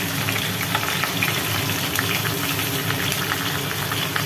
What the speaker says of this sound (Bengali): ভাজা হচ্ছে মাছ